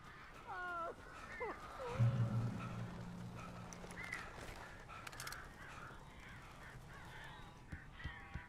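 Crows caw several times in a horror action game set in a cabin, harsh calls clustered near the start over a low rumbling ambience, with a deep tone swelling briefly and scattered faint clicks afterward.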